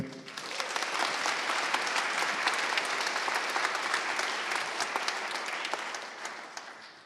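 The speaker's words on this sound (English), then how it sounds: "I'm sure we could give him a round of applause anyway." A large audience at a conference closing ceremony applauds steadily and loudly throughout, a thick, even roar of clapping that tapers slightly at the end.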